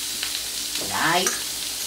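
Garlic sizzling on a gentle plancha griddle while potatoes are being crushed for octopus, a steady close frying hiss with a brief swell of crackling midway.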